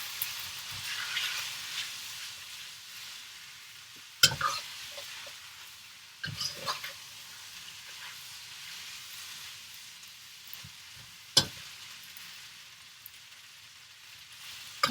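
Pad thai noodles with peanuts, scallions and shrimp stir-fry in a wok at a wok station. A soft sizzle runs underneath, broken by a few sharp metallic clanks of utensil against pan.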